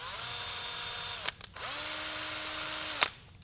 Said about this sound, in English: This is an M3 tap, and I can just run it through that hole. It'll enlarge it and add the threads.